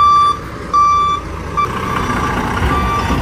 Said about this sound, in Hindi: दोस्तों अभी हम लोग गाड़ी को निकाल के इधर थोड़ा साइड में कर दे रहे हैं